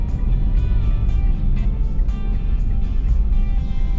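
A truck speeding past on the Alfonso-Tagaytay bypass road: a steady, loud, low engine and road rumble close by, continuous throughout with no speech over it.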